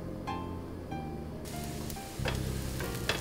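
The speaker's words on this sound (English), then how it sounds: "We'll give it a nice stir and we'll let this simmer for a bit." Onions and garlic sauté in a pan, a soft close crackle of sizzling that swells a little louder partway through, with light scraping as the pan is stirred.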